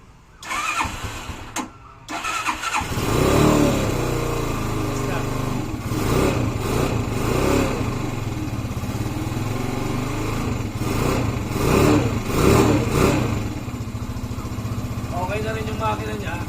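Motorstar classic motorcycle under restoration, its cold engine kicked over after a few brief attempts, then catching and running steadily at a loud, close idle with some revving, while someone talks over it.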